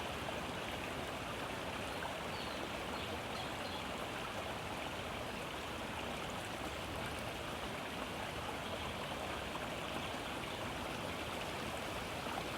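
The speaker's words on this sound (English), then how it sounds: "allowing your awareness to settle on the sounds of the water perhaps" A stream of flowing water rushes steadily and fairly loudly, a dense unbroken wash with no pauses and no voices.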